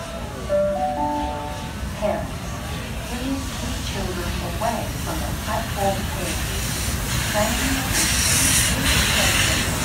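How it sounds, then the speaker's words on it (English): Steam locomotive 3642 leads a special train slowly into a platform at Penrith station, with steady hissing steam, clanks and rhythmic rail clatter, while people talk nearby throughout. "3642 is now leading the steam special back into platform number 1 here at Penrith"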